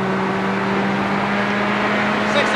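A race car engine holds high revs on the Las Vegas road course, a steady, loud onboard drone with a sustained tone and no talking over it.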